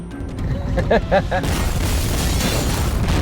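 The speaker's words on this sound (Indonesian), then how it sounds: "mobil dan rumah Bishop meledak hingga menewaskan Steve" A few tonal beeps are followed by a sudden deep boom as a car and house explode in a film, swelling into a loud, sustained roaring rumble.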